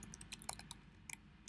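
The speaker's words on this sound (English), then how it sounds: "excuse my typing" A computer keyboard being typed on gives off faint, scattered clicks in short irregular bursts, quiet and close, with no voices.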